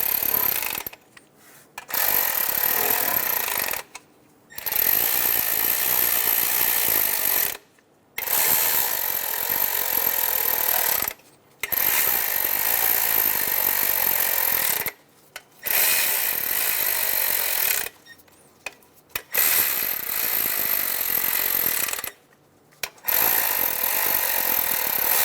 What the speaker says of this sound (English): We're going to snug our bolts down.